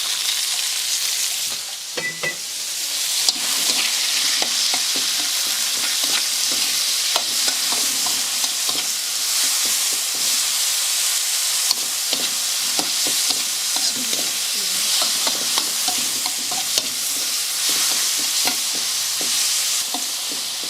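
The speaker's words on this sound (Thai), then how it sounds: "ใส่หมูเข้าไป" Pork stir-fries in hot oil in a pan, a continuous close sizzle lasting some twenty seconds with frequent clinks and scrapes of a spatula as the meat is tossed.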